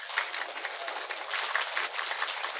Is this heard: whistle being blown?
no